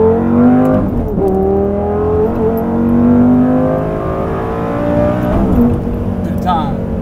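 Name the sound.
supercar engine accelerating hard in second gear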